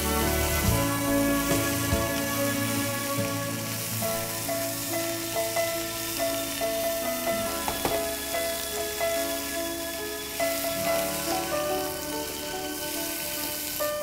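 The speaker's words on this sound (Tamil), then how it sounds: "வெஜிடபிள்ஸ் ஆட் பண்ணி நீங்கள் ரொம்ப மிக்ஸ் பண்ண வேணாம், ஜஸ்ட்டு டாஸ் கொடுத்தா போதும்" Boiled vegetables tossed in a hot pan make a soft, rain-like sizzle that runs steadily, with occasional light knocks of the pan under a faint background hum.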